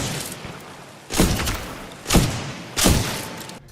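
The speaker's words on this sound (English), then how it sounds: "These guns are so awesome." Gunfire in the Titanfall 2 video game, heard as three heavy booming shots at roughly even intervals, each with a short rumbling decay, loud and close against a low background of game noise.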